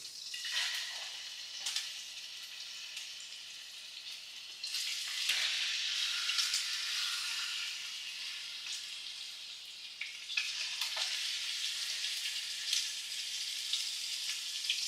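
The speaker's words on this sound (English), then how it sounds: "the oil is heated, starting to sizzle a little bit" Chicken pieces fry in hot oil in a skillet while teriyaki is being cooked, giving a steady, close sizzle that swells and crackles louder at moments, with no talking.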